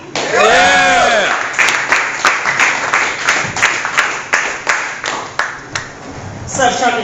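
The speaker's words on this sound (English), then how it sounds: "Give me a warm round of applause." A comedy club audience claps and cheers for a stand-up comedian, dense applause with scattered sharp claps, near and loud, fading toward the end as the room settles.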